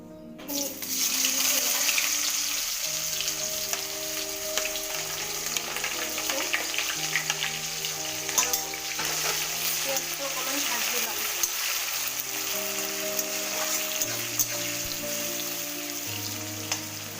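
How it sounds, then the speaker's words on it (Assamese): Chopped onions frying in hot oil for a chicken curry, a loud continuous crackling sizzle that starts abruptly and holds steady close by, with faint tonal background sounds and no talk. "ইয়াত তেলখিনি গৰম হৈছে। এতিয়া মই ইয়াত দি দিম কাটি থোৱা পিঁয়াজখিনি।"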